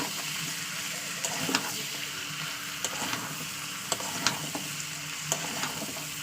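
Spices, tomato and meat fry in oil with no water added, cooked down for mutton kosha. A continuous close sizzle carries periodic scraping stir strokes and light clinks against the pan.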